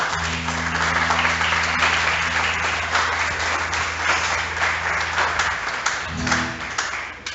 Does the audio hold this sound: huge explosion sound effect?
no